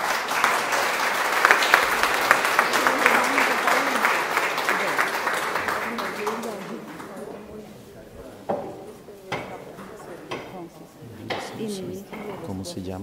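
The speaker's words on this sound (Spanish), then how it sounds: "Un aplauso a la Madre del Cielo" Crowd applause in a chapel during a Medjugorje pilgrimage, a dense burst of clapping for the Mother of Heaven that fades after about six seconds, leaving scattered claps and a voice speaking.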